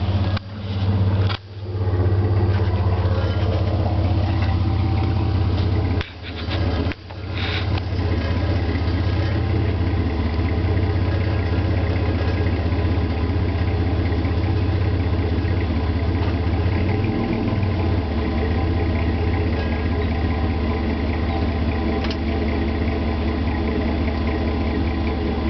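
A 2003 Chevy S10 with the 4.3 engine and Flowmaster 40 series dual exhaust idles in gear with the parking brake on, a steady low rumble held close by for the whole stretch, with a couple of brief dips early on.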